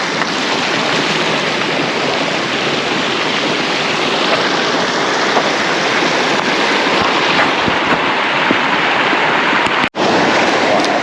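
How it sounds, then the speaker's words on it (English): A creek on a forest hiking trail rushes steadily in a loud, continuous wash of flowing water close by, with no voices. "We're here at the creek, maybe a couple kilometers or whatever from the trailhead. playing in the creek."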